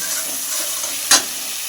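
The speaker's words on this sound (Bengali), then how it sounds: "এবার সমস্ত মশলা তেলের সঙ্গে কিছুক্ষণ কষিয়ে নেব" Spice paste with Kashmiri chilli powder and a splash of water frying in oil, an even close sizzle with one sharp stir or spatter burst near the end.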